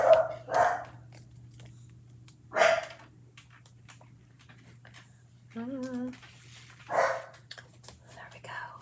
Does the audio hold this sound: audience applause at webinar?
no